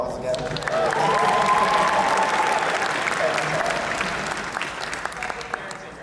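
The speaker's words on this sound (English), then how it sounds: "Give them a round of applause again." A large convention crowd at an anime event's opening ceremony claps in sustained, dense applause with faint cheering, swelling early and then slowly fading.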